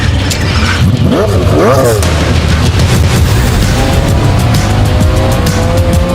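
A three-seat car's engine rumbles steadily and close as it pulls away, the low drone holding throughout while voices talk over it and a faint rising whine creeps in near the end.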